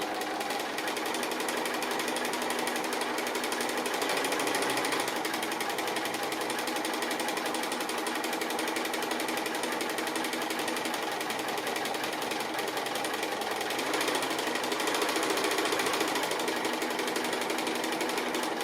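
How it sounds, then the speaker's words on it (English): Sewing machine stitching a cat appliqué design with tasty-treat motifs, a continuous rapid mechanical whir and clatter of the needle running steadily and close for the whole stretch, with no talking. "I think I'll go up there and come back along the same line of stitching as well"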